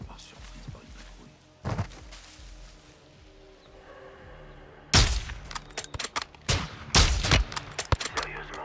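Several sharp sniper-rifle gunshots crack out in a video game, one early and then a rapid cluster near the end, with faint ambient noise between.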